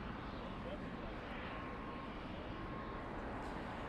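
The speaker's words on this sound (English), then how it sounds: "We have an A321 Neo flying to Denver, United Airlines 493. That's the next takeoff." An Airbus A321neo of United Airlines taking off, heard as a steady, loud broadband jet roar that stays constant throughout, with no speech.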